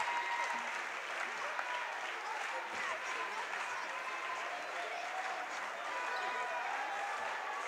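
A gym crowd applauds as substitutes leave a girls' high school basketball game between Hutch and Galena, a continuous, even roar of clapping filling the hall, with voices mixed in.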